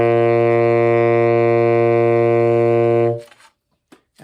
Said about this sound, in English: when you play low C, it should sound like this.